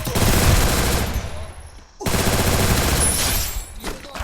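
Continuous loud rapid gunfire fills the clip, pausing briefly in the middle before the bursts resume, dense and close.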